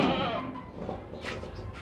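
A 41-kilogram goat for Qurbani gives a short bleat at close range in a livestock market, followed by background noise and a faint voice.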